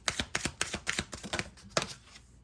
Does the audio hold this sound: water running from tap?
no